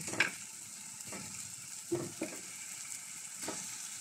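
Chicken dropped into a pan with spices for an Arabic magluba sizzles and fries quietly, with a few sharper clatters and stirring scrapes at moments over a steady low hiss.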